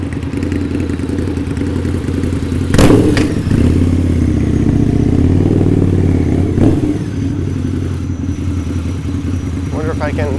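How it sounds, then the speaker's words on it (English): A fat-tired motorcycle rumbles past on a city street in Toronto's Bayview-Leaside area on a gloomy day, a low engine drone with a couple of sharp thumps amid traffic noise. "Fat tire on that motorcycle."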